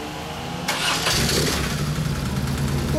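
A 1998 BMW R1100S boxer motorcycle with a Stainless Tune aftermarket exhaust muffler turns over and catches, then settles into a steady, rumbling idle close by, with a brief louder burst as it fires up; the audio is distorted.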